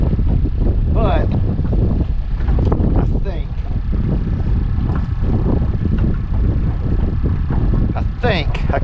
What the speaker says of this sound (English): It's just a touch windy.